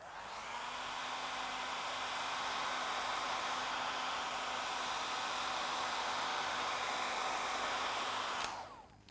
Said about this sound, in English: Now we're going to give this another quick hair dry.